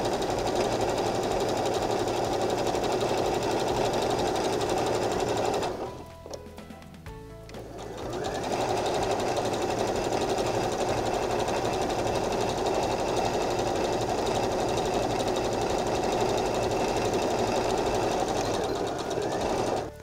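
A sewing machine stitches fabric pieces together in a steady, close, rapid mechanical whir. It pauses briefly partway through, then runs on without voices.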